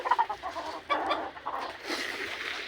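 Backyard chicken clucking close by in a few short, throaty bursts, with a soft rural background and no speech.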